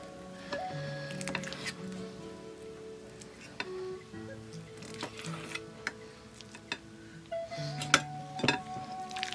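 Ricotta being mixed into a traditional pizza rustica pie filling, with scraping, tapping utensil-on-bowl clatter and soft squishing, close and steady throughout.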